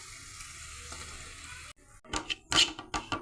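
Chili powder and fenugreek frying in hot oil for a mango pickle, a soft steady sizzle giving way to louder bursts of crackling and scraping stirs near the end.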